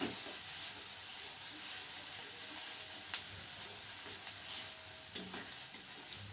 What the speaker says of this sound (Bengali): দিয়ে দেব কাঁচা লঙ্কা কুচি। এটাকে এখন খুব ভালোভাবে ভেজে নেব।